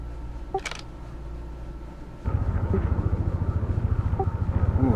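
A spaceship engine in Star Citizen, a steady low drone that swells to a louder, pulsing rumble partway through and holds, fairly close, with no talk over it.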